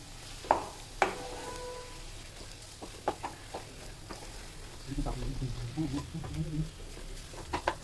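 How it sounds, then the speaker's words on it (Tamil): Moong dal halwa with roasted cashews, raisins and almonds being stirred in a pan, with a few sharp spoon knocks early on and a soft, thick scraping and sizzling churn building later, close and moderately quiet. "போட்டு இது நல்லா கிளறி விட்டுக்கணும்"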